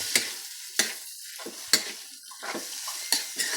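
Lumpia filling with onion and garlic being stir-fried, close sizzling under repeated sharp scrapes of a utensil against the pan in an uneven rhythm, with no talking.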